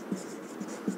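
Chalk or marker writing on a classroom board during a Hindi-language English grammar lesson, a few short scratchy strokes close by with faint room tone and no talking.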